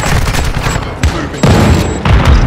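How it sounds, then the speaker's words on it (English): Heavy gunfire in Call of Duty Modern Warfare 2 (2022), heard as dense, loud overlapping shots and booming bursts at close range with no pauses over a couple of seconds. "Moving. I'm taking effective fire."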